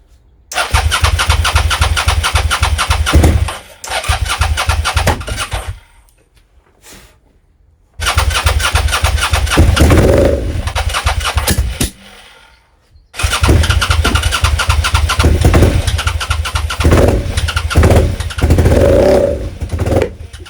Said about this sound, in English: I think the engine's running